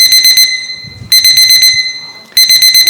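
Loud electronic alarm sounding during a hearing at the Boston State House, pulsing in rapid beeping bursts, pausing briefly and then resuming twice, with faint background talk underneath.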